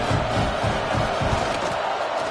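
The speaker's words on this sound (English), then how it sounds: "this crowd is buzzing after that last score" Football stadium crowd buzzing after a pick-six touchdown, a dense, loud roar of many voices with rhythmic low thumps of clapping or stomping running throughout.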